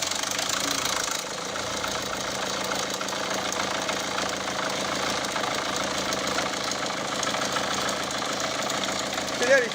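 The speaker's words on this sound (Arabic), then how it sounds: "نسمع المحرك كيفاش يخدم." A Peugeot-Citroën 1.6 HDi diesel engine idles with a camshaft timing chain fault, producing a continuous loud running drone overlaid with a steady metallic rattling clatter close by.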